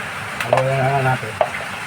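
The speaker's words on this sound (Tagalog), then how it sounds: "Haluin na natin." Dinakdakan stirred with sauce in a pan gives a soft sizzle under a brief scrape or two of the utensil, close and moderately quiet, with a voice speaking through it.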